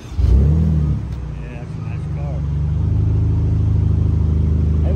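A Kia Stinger engine starts and settles into a steady, close idle rumble, with people talking over the first moments.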